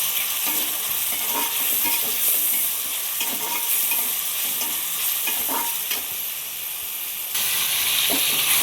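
Tomatoes sauté in a pan for a traditional South Indian lentil-ball kuzhambu, a constant bright sizzle with intermittent scrapes and taps of stirring, close and steady throughout, no voices.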